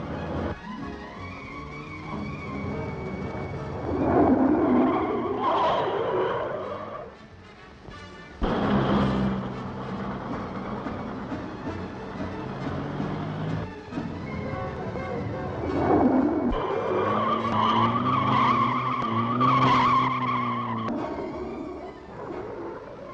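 A London bus skidding on a driver-training skid pan, tires squealing in long wavering screeches that rise and fall over engine noise, loud and fairly close, with a few quieter gaps.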